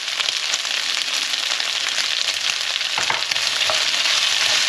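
Mustard and tomato paste fry with browned beef goulash, a dense, loud, close sizzle that holds steady throughout with faint crackles and a brief scrape, no talking.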